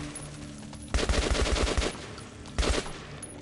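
Automatic weapon fire in the video game Metro 2033: a rapid burst of about eight shots, then a shorter second burst, loud and close over a low hum, no speech.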